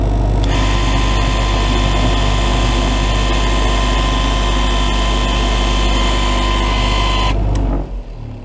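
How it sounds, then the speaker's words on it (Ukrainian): An industrial vertical cutting knife for garment fabric runs with a loud, steady motor drone and hum, close by, before cutting off near the end and fading quickly. "промислові професійні ножі вертикальні. Цей ніж вже таким чином працює."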